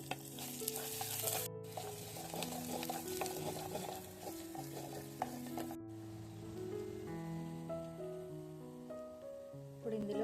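Onions and garlic cloves fry in oil for a spinach curry, a steady close sizzle with stirring scrapes throughout, while background music carries tonal notes across the whole stretch.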